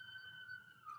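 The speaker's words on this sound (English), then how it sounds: "something is going on outside with sirens" A siren on a road outside, heard faintly at a distance as a steady wailing tone that bends lower near the end, with no talking over it.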